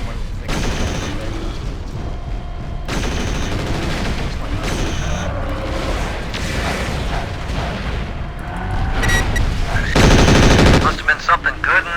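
Rapid machine-gun bursts and booming explosions fill a battle in MechWarrior IV, dense and loud, with heavier blasts building toward the end and a voice talking over the fighting.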